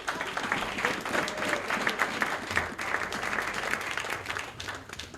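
A church congregation claps together in steady, dense applause that holds at an even level throughout, heard from a moderate distance.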